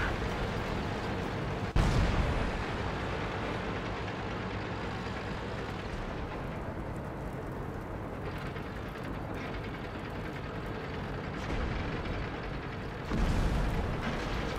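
Tank cannon shots in World of Tanks, with a sharp loud blast near two seconds and another near thirteen seconds over a steady rumbling engine and battle background.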